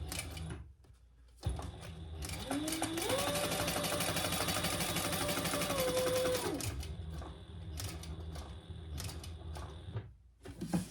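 A sewing machine runs a steady stitching seam across the top of a Magnolia wallet, a continuous whirring motor hum lasting several seconds with quieter handling sounds before and after.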